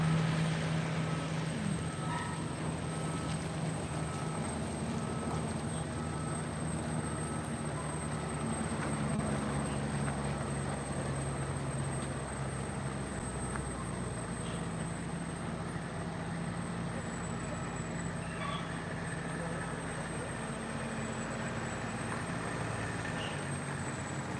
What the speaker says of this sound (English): they are spraying for mosquitoes and they're driving all around with that truck